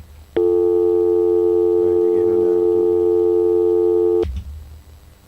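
A telephone busy signal on a faulty phone line sounds as a loud, steady electronic tone for about four seconds before cutting off abruptly, with faint voices murmuring underneath partway through.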